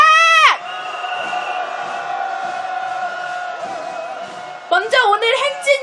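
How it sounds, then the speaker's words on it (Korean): A crowd at a candlelit protest march raises a loud, sustained roaring cheer that swells from a brief sharp shout and fades, ending in scattered whoops and voices. "큰 함성으로 행진 시작하겠습니다"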